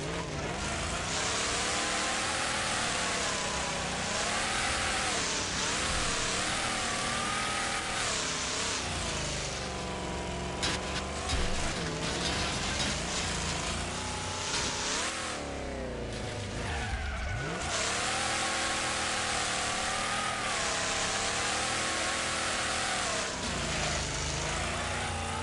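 A race car in the Wreckfest video game revs hard while held in third gear, a loud continuous engine drone rising and falling in pitch with tire noise, steady throughout.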